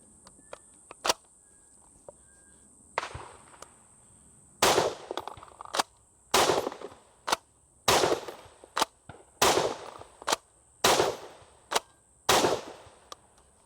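A Chimera 2000 toy blaster firing rounds during a round test, about nine sharp snapping shots spaced a second or so apart, close and loud over a faint steady high whine.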